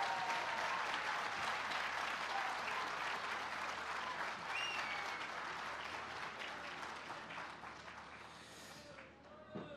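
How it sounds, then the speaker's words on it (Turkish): A crowd at a CHP political rally in Istanbul applauds steadily, dense clapping, fairly distant and faint, holding throughout with a slight fade near the end. "Şimdi lütfen hep birlikte büyük bir coşkuyla alkışlayalım."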